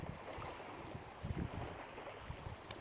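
Sea waves washing against a rocky shore in a steady, soft, continuous rush of surf with a light wind, heard from a little distance.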